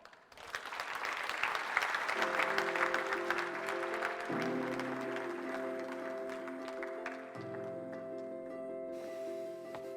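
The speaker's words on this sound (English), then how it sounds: "The warmest round of applause for Sir Tim Clark" A large conference audience claps in a steady, sustained round of applause for a keynote speaker, carrying through the whole stretch, with music rising underneath partway in.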